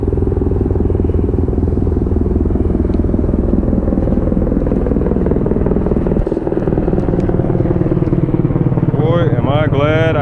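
Helicopters flying overhead near a fishing spot drone as a loud, continuous rotor and engine rumble with a slowly shifting pitch, filling the whole stretch, with a brief squeaky sound near the end.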